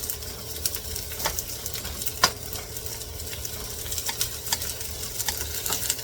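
Chopped onion and rosemary sizzle in hot oil in a pan for Filipino chicken adobo, a soft continuous frying hiss broken by occasional sharp pops and the scrape of stirring, close and moderately quiet.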